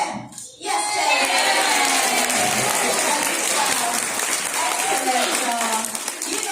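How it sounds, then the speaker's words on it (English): An audience claps loudly and continuously at a live parrot show at Longleat, the applause starting abruptly after a short pause and holding steady with some voices mixed in. "If she gets it to the top, give her a lovely clap."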